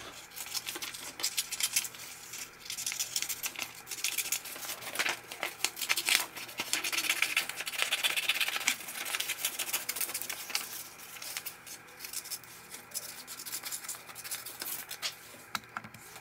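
Scissors cut through a paper slipper pattern up close, giving soft, crisp snips and light paper rustling in an irregular patter over roughly sixteen seconds.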